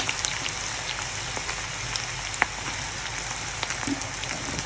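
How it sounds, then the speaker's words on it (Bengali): Onion and garlic frying in oil with black cumin while greens are cooked; a steady, broad crackling sizzle runs throughout at moderate level with small pops, and no talking. "তো আমি এখন দিয়ে দিব পেঁয়াজ আর রসুন।"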